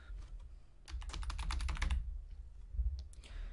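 Quick bursts of keystrokes on a computer keyboard, a short run of close, crisp clicks after a few isolated taps, with no one talking.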